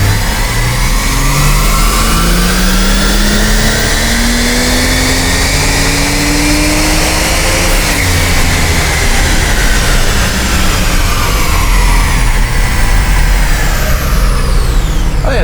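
A Ford XR6 Turbo engine revs hard and sustained around 6,500 RPM on a dyno, loud and close, the pitch climbing and dipping through a long continuous roar.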